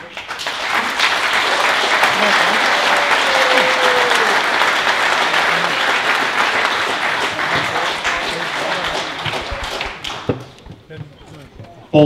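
Sustained, loud audience applause at a Dutch book launch, dense clapping filling the room for about ten seconds before tapering off into scattered claps.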